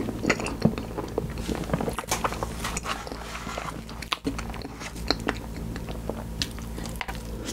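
Close, soft chewing and biting of a Twosome Place tiramisu party pack cake, with quiet squishy mouth sounds and small crunches repeating steadily and no talking.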